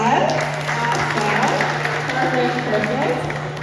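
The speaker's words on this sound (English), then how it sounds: "Give her a round of applause." An audience at a crypto meetup in Toronto claps in a sustained burst of applause, dense and fairly loud, with a steady hum beneath and some crowd murmur and voices mixed in.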